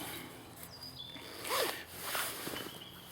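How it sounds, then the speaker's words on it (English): A zipper pulled on a pocket of a 5.11 Sabre 2 jacket: a few quick, close zips and rasps, with short pauses between strokes and no talk. "We've got zipper closure."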